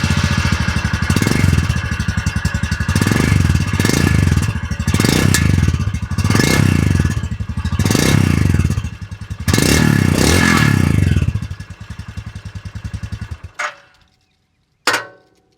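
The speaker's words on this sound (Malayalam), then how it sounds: "അപ്പോൾ ഇങ്ങനെയാണ് നമ്മുടെ ഏറ്റവും പുതിയ സ്ക്രാം 440യുടെ എക്സോസ്റ്റ് നോട്ട് വരുന്നത്." A Royal Enfield Scram 440 motorcycle with a 25.8 bhp engine sends out a close, loud exhaust note in a series of rhythmic rev blips, then winds down and cuts off, followed by a couple of sharp knocks.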